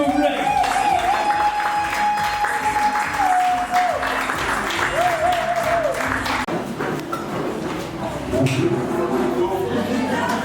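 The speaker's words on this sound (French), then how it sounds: "Est-ce qu'on peut acclamer s'il vous plaît?" Applause and cheering from guests at a 50th birthday celebration, with steady clapping running under talk and crowd noise throughout, music faintly mixed in.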